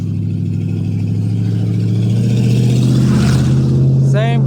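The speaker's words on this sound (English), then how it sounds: "same revving up the engine and the noise" Truck engine revving and droning steadily nearby, rising in pitch and loudness toward the end with a short sharper whine at the close.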